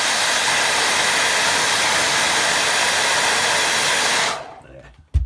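A hair dryer blows steadily at close range over a watercolour painting, a loud continuous broadband whoosh that cuts off abruptly near the end, followed by a brief click.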